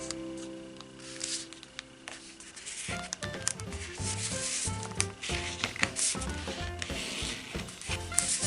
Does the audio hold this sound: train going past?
no